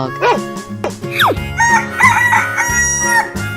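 A rooster crows loudly in a 3D animal video game, a rising cock-a-doodle-doo with sharp sliding calls, followed by bright game music tones.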